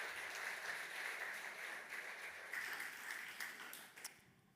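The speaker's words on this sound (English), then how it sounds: "So please give a warm round of applause." A conference audience at a security talk about hacking children's smartwatches gives a warm round of applause, a dense, steady clapping from many hands that fades out near the end.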